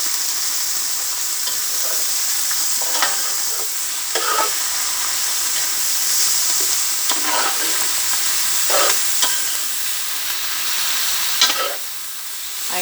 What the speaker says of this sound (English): I've added my spinach and my watercress. Just gonna let that fry down.